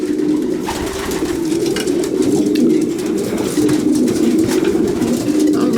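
Racing pigeons in a loft coo continuously at close range, making a dense, overlapping low murmur of many birds with no talking.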